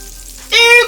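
Bacon and sausage frying together in a pan, a bright crackling sizzle that swells suddenly and holds loud and close for a moment.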